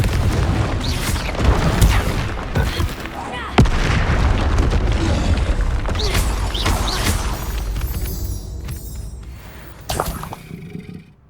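Fiery spell blasts from a Hogwarts Legacy duel land as a run of booming explosions with crackling, shattering debris, loud and close. Shouting voices mix in before the noise fades out at the end.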